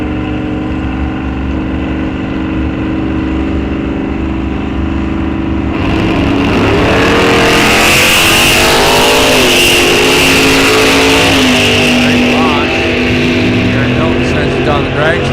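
A Camaro and a Nova launch off the line in a drag race at Rock Falls Raceway; a loud idle rumble erupts into roaring, revving engines that rise and shift pitch, with an announcer talking over them.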